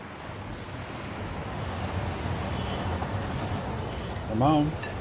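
A train rolling along in the Satisfactory factory game: a steady low rumble of wheels and carriages, with a brief squealing tone rising near the end, under faint background sound.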